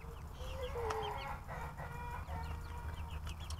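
Chickens cluck and chatter close by in a busy, overlapping flurry of short calls over a low background hum.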